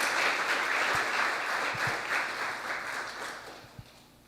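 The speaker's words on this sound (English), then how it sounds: "If we can give them another round of applause" Congregation applause at a church membership celebration, a dense, steady wash of clapping from a crowd in a large room that gradually fades, with a few louder thumps near the end.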